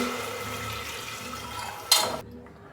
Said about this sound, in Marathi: आता त्याच्यामध्ये एक ग्लास मी पाणी घालून घेणार आहे